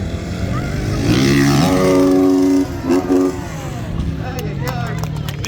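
A 450cc dirt bike engine revs hard and loud while the bike is mid-air during a stunt jump. One sustained rising howl is followed by a shorter blip, then quieter engine noise.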